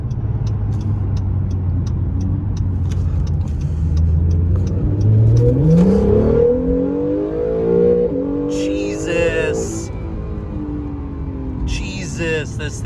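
An Acura NSX pulls in and accelerates, the engine note climbing steadily in pitch as it revs up and then fades away, with people talking over it throughout.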